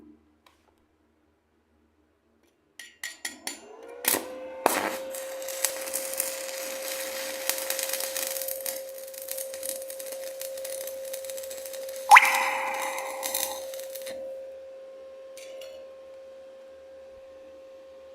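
Stick welding with a 3 mm Hyser electrode at 85 amps: the arc strikes with a few pops, then crackles and sizzles steadily for about ten seconds before cutting out, with no talking.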